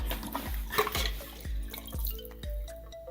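Fuel system cleaner for a DB1 Integra being poured in, heard as a rhythmic glugging liquid flow with regular gurgles, close and moderately loud, with no talking.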